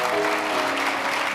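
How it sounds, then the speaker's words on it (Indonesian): Church audience clapping in a dense, steady burst, loud and close, with sustained musical tones humming underneath. "Anda tepuk tangan"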